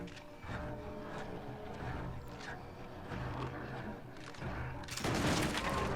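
Gunshots and blasts in the video game Little Nightmares 2, a series of loud irregular bangs and rumbling game sounds, ending in a louder harsh burst, with no talk.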